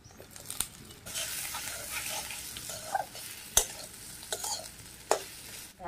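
Fried potatoes are stirred into a sizzling spicy fish-curry masala of ground spice paste, nigella seeds, turmeric and salt, with close scraping strokes and sharp clicks of the spoon over a continuous fry.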